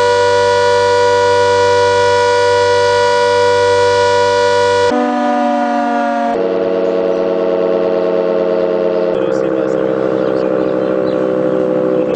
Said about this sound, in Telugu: ఒంగోలు చుట్టుప్రక్క గ్రామాలు సైతం ఈ సైరన్ కూతకు అలవాటు పడ్డవాళ్లే